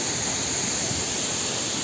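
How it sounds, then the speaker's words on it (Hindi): Waterfall tumbling down a rocky mountainside on the Kedarnath trek, a steady, full roar of falling water with broadband hiss, constant and close with no pauses. "तब तक झरने के मजे लो। झरना है"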